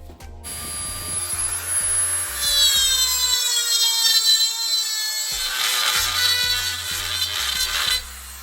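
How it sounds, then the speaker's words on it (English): A Dremel rotary tool grinds on a steel part for a riding mower throttle and brake pedal, its high-pitched whine steady and close for several seconds between short bursts of bench noise. "Get the good old Dremel and"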